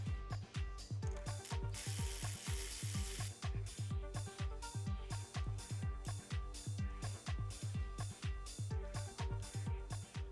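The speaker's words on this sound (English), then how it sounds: "I use a socket as support while I tighten this bolt." Rapid ratchet clicks sound steadily while a bolt is tightened on a short shift kit being fitted to a VW MK6 GTI shifter, with a socket used as support; the clicking keeps a fast, even rhythm, close and fairly loud, with no talk.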